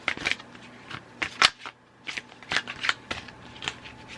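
A deck of tarot cards is shuffled by hand in a quick series of crisp riffling bursts, close and fairly quiet, with no talking.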